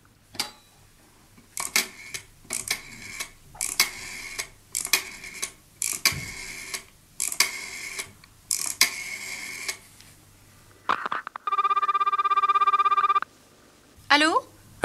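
An old telephone bell rings in repeated trills separated by pauses, loud and near, followed by a longer steady tone and other clicks, with voices talking around it.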